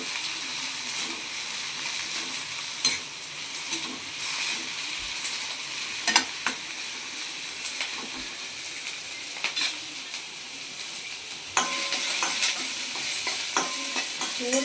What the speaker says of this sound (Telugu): ఇవి గోల్డెన్ బ్రౌన్ వచ్చినంత వరకు వేయించుకోవాలి ఇవి కొద్దిగా చాలా టైం పడుతుంది సిమ్లోనే వేయించుకోవాలి